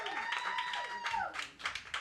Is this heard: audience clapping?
yes